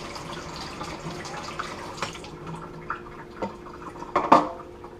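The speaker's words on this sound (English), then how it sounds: "I'm just going to rinse out the basket." Water splashes and trickles steadily as a Fluval 206 canister filter basket is rinsed under a running tap, with a few louder knocks and splashes near the end.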